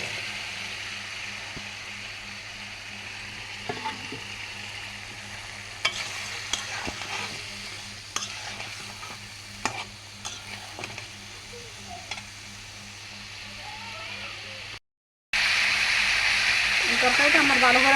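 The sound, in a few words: vegetable stems and potatoes frying in spice paste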